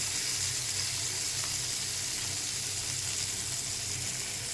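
Baila river fish frying in oil in a pan, a steady, close, continuous sizzle and crackle with no talk.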